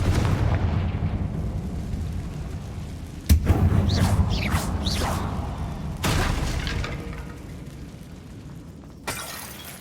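Confringo fire spell exploding in an old mine in the video game Hogwarts Legacy, with sudden loud blasts and crackling bursts over a constant rumbling background, repeated several times.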